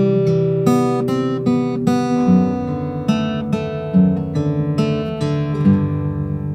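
Fingerstyle acoustic guitar plays a song, alternating a plucked chord melody with arpeggiated fills; notes ring and overlap in a relaxed rhythm, close up with no talking.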